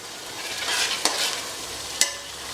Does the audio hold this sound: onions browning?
yes